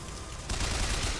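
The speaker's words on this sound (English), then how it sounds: "They're just huge ass fucking gatlings and shit." Huge gatling turrets in Bioshock Infinite open fire: a dense, loud roar of rapid shots sets in abruptly partway through, over a constant battle din, with no talk.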